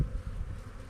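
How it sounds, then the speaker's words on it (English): Honey bees hum inside a hive in a low, steady buzz, faint and brief, like a crowded hive heard up close. "But there's tons and tons of bees in here."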